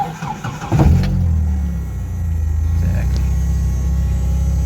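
An Opel Kadett engine cranks and fires up from cold with a brief burst, then settles into a loud, steady low idle.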